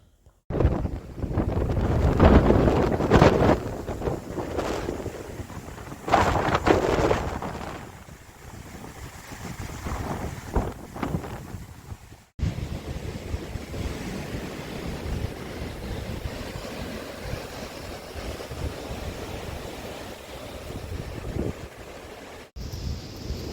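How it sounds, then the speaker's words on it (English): Storm wind, Storm Ashley, gusting hard over an outdoor cattle shed used for outwintering cattle, a loud continuous roar with surging gusts and buffeting against the microphone, no voices. "So we have a storm blowing overhead and we are in our living shed."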